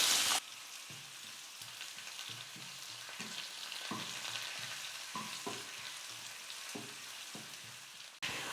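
Onion and curry leaves fry in hot oil for a tempering, a steady close sizzle with soft scraping stirs knocking through it at irregular intervals, no voices present.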